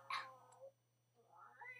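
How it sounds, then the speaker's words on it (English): A pet cat gives a faint, drawn-out meow followed by a second rising cry, distant and quiet over a low steady hum. "that's my cat over there"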